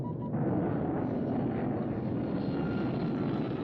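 A small airplane, low on reserve fuel, flies and circles in search of a level landing spot over cliffs; a steady, continuous engine and propeller drone fills the clip alone at even loudness.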